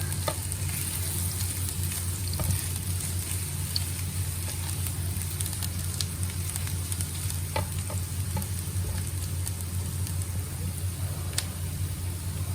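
Garlic and ginger frying in a pan until brown, for a Chinese-style fish fillet stir fry: a steady, close sizzle with occasional light stirring clicks and a low kitchen hum underneath, no talking.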